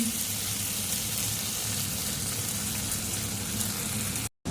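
Coarsely minced beef sizzles steadily in a pan, a continuous moderate hiss with faint crackles, broken by a brief silent gap near the end.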